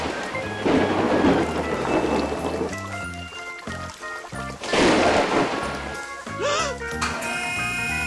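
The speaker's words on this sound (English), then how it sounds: "Oh no! It's raining now." Rain falls in heavy gusting bursts with rumbling, thunder-like swells, mixed under a musical backing with tonal effects that rise and fade twice.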